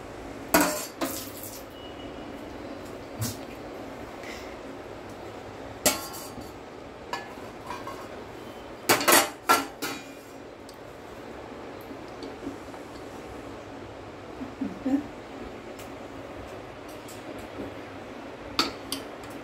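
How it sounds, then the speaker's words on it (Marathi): Cooked vegetable curry for valyache bhirda is scooped from a pan into a bowl. Close, sharp clinks and scrapes of a metal spoon against the cookware come in scattered clusters over a quiet background. "मग आपण हे गॅस बंद करूया आणि एका बाउलमध्ये काढून घेऊया"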